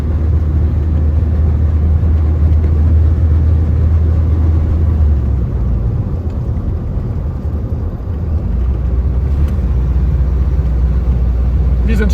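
A Volga car drives fast along a road near Lake Baikal in Siberia, heard from inside as a steady, loud engine and road rumble throughout.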